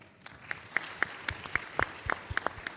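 A conference audience claps at a plenary session, sparse and fairly distant, with individual claps spaced out rather than a full ovation.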